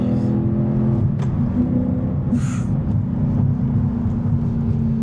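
Mercedes CLK 63 Black Series with a swapped-in manual gearbox accelerating hard: a steady, loud, deep engine roar that keeps pulling throughout, with no talk.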